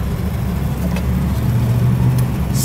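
A 1971 Rolls Royce Silver Shadow pulls away from a red light, its engine a smooth low steady hum heard from inside the cabin, rising gently with no voices.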